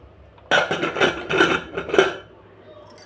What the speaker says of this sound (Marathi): आता झाकण लावून घेऊ.